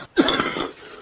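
A single short cough from a man, close and loud, following a brief silence and fading into a slight breathy tail.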